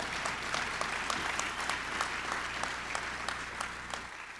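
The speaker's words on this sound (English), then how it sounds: "you can clap on that" Audience applause at a mayor's 2020 State of the City address, a steady patter of many clapping hands heard from a distance, fairly faint, continuing evenly for several seconds.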